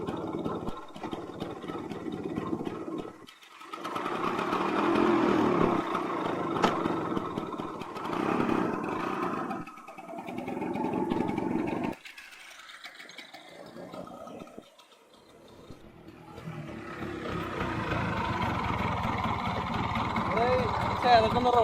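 A 1998 Bajaj Chetak scooter engine runs with a rough, buzzing putter that rises and falls through several bursts and dips, with brief pauses, while people talk at times.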